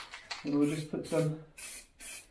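Spray paint hissing onto a metal cable plate in a building: several short bursts in a row, heard close up between a man's speech.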